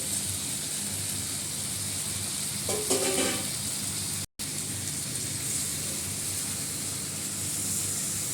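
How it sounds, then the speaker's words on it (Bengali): Potatoes tipped into a browned, sizzling spiced chicken masala for palak chicken: a continuous close hiss of frying with a brief clattering burst as they go in, and a momentary cut in the sound midway. "আলুগুলো দিয়ে দিচ্ছি।"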